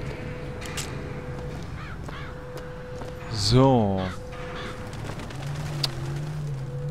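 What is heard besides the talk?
scripted crow caws in Bioshock Infinite video game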